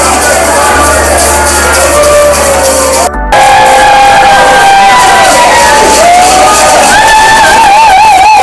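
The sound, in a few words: crowd cheering at a conference send-off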